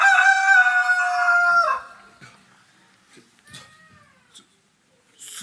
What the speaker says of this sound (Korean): 수탉이 울었어.